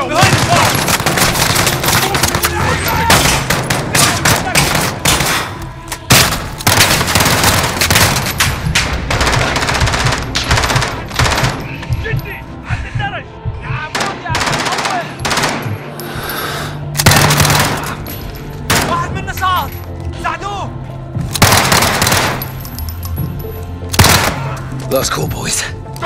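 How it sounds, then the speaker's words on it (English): Heavy gunfire in Call of Duty: Modern Warfare during a street chase in Russia, with loud bursts of machine-gun fire and single cracking shots coming thick and fast, while shouted voices and music run underneath. "The gunshots, of course."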